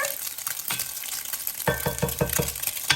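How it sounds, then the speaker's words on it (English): Bacon bits fry in a hot pan with a steady sizzle, joined partway through by a rhythmic series of stirring scrapes and light clinks. "So now I'm just gonna fry them in here."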